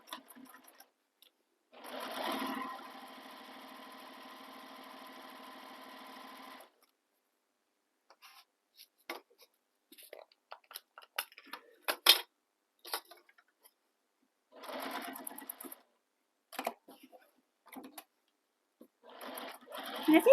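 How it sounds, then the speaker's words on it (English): A sewing machine stitches down the side, across the bottom and up the other side of a slip pocket on a crossbody bag, with a steady whirring run of about four seconds, a shorter burst later, and scattered clicks and handling taps between. "Now we're going to sew down the side of the slip pocket, across the bottom, and up the other side"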